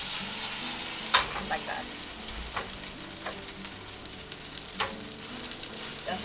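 A potato pancake sizzles steadily in a frying pan on the stove, a continuous crackling hiss broken by a few sharper pops and scrapes, with a brief spoken remark near the start.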